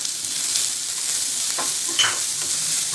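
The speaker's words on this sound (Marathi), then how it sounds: "तर कांदा छान परतलेला आहे." Finely chopped onion fries in a pan with ginger and garlic, giving a steady soft sizzle with a few brief stirring scrapes.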